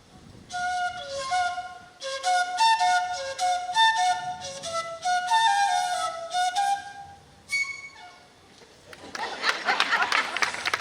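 A solo fife plays a lively, clear melody of short piping notes at the Quelbe folk music presentation, the tune breaking off near the end before a burst of audience applause.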